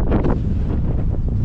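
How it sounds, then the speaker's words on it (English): Strong wind at Streaky Bay, Australia buffets the microphone in a constant low roar, with gusty rumbling bursts and no voices. "it's like a billion percent windy over"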